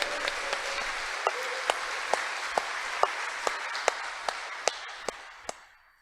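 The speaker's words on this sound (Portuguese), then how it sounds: "Uma salva de palmas para Ele. Mais forte, igreja. Põe corpo nesse aplauso." Church congregation applauding at a Sunday Mass, a full crowd clapping together in a dense wash, with one or two rhythmic claps standing out every half second or so before the applause fades away toward the end.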